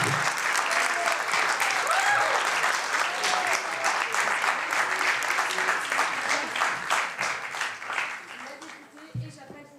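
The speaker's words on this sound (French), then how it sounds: "Les applaudissements." A hall audience at a French high school eloquence and debate contest breaks into dense, sustained applause that gradually thins and fades toward the end, with no talking over it.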